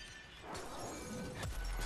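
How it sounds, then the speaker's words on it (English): Enemies shattering in the video game Warframe, with a crisp glassy break bursting out amid dense, steady game noise, a second louder burst following near the end. "Loving the effect of it shattering."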